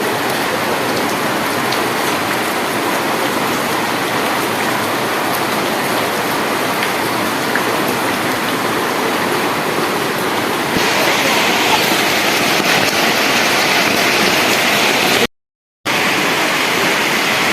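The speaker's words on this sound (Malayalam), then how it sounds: "കക്കടിപ്പുറം തോട് കുത്തി ഒഴുകി വരുന്ന" Kakkadippuram stream in flood rushing and gushing near a bridge, a steady, loud broadband roar of churning water that swells slightly toward the end, with a brief dropout near the close.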